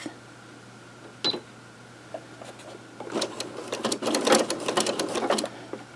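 A sewing machine stitches around a double oven mitt, starting with a lone clack, then a faint quiet hum, then a fast rattling run of stitches that grows louder and steadier over the last few seconds.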